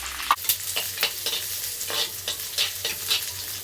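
Small onions hitting hot groundnut oil with mustard seeds and curry leaves, a steady loud close sizzle with repeated soft stirring scrapes at a regular pace and a sharp sputter at the start.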